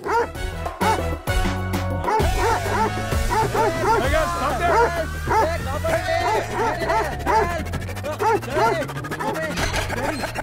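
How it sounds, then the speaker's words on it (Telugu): Dogs bark and yip repeatedly in a steady run of sharp barks throughout, fairly close and loud, with crowd babble and voices mixed beneath, as the dogs give chase. "లేదు డాడీ, కుక్కలు వెంట పడుతున్నాయి."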